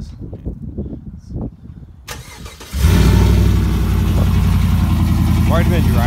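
A 2014 GMC Sierra with TSP headers, a MagnaFlow catalytic converter and no resonator or muffler starts up on a cold day. A low, quiet stretch gives way to a sudden loud start, then a deep, steady, close idle.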